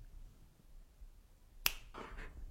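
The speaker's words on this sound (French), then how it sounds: "un petit claquement de doigts" A single sharp finger snap rings out clearly against a quiet room, followed by a brief soft rustle.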